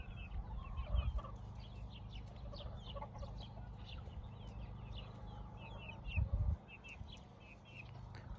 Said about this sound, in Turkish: Kazlar tavuklara hiç rahat bırakmıyor